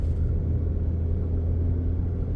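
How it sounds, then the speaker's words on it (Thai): Steady, loud low rumble from a Ford Ranger Sport 4X2 with a six-speed automatic, driven downhill on a steep mountain road in Nan province, Thailand. The engine noise stays constant and fills the cabin throughout. "ได้ยินเสียงเครื่องไหม"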